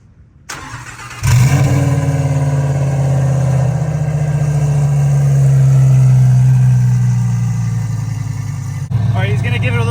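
A twin-turbo Lamborghini engine cranks and fires up with a loud roar, settling into a steady throbbing idle that swells gently, then cuts off abruptly near the end; voices are heard alongside.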